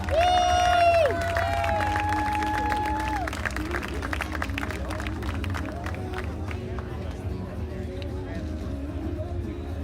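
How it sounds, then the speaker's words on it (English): A crowd at a county fair queen pageant claps and murmurs as the outgoing 2018 Junior Miss queen takes her final walk, after a brief sustained tone at the start. Steady, moderately distant applause continues with voices mixed through it. "Please give Chloe Fuller a round of applause"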